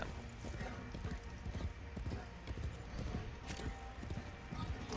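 Horse hooves clip-clopping in the video game Warframe, a steady run of close, quick hoof strikes over a constant low rumble, with a voice speaking briefly over it.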